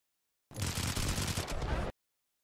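Rapid automatic gunfire from the Assault T9 in Modern Combat 5, a dense burst of shots lasting about a second and a half, loud and close, then cut off abruptly.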